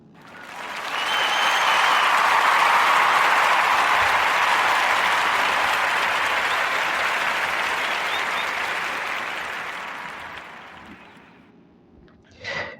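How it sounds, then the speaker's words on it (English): Sustained applause from a podcast audience, swelling quickly and holding steady for about ten seconds before thinning out and fading, with a brief sharp burst at the end. "clap it up for him too"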